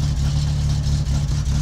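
A worn car engine in the video game My Summer Car runs steadily at idle, a constant low droning hum without speech.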